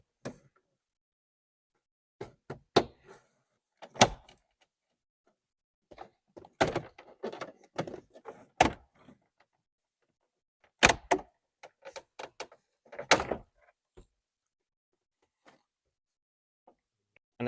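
Plastic pry tools pop car stereo trim loose, sharp snapping clicks and plastic knocks in scattered bursts between quiet pauses, close and clear.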